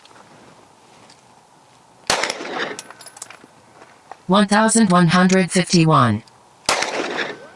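A Smith & Wesson M&P non-ported pistol fires over a chronograph: two loud, sharp reports a few seconds apart, with someone speaking briefly between them.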